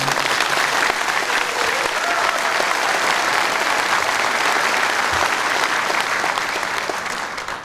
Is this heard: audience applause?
yes